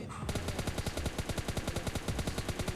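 Rapid automatic gunfire from the PUBG battle royale video game, a dense string of about two dozen evenly spaced, loud shots fired in a continuous burst after a brief quiet start.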